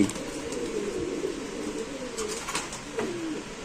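Pakistani Giribaz pigeons coo in low, rolling throaty calls, several overlapping phrases repeating steadily and close by, with faint chirps and a constant background hiss throughout.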